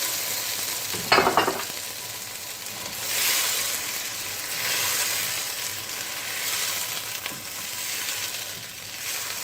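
Steady sizzling and frying of fresh broad beans in a pot, with a burst of stirring and scraping early on, continuing loudly and evenly throughout.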